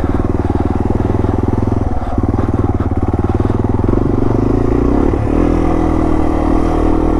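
A Yamaha TW200 motorcycle rides an off-road trail at Wildomar OHV Park, its engine a loud, steady, close putter with slight shifts in pace and occasional clatter.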